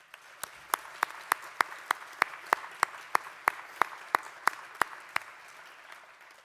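Sharp, evenly spaced claps ring out about three times a second over a soft crowd murmur, like a room applauding in rhythm, at the opening of the Icelandic municipalities' national assembly.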